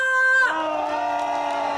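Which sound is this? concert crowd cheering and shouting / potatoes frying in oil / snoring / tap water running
concert crowd cheering and shouting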